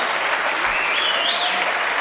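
A television studio audience claps steadily for the musician, with a dense wash of hands and a rising whistle cutting through the middle.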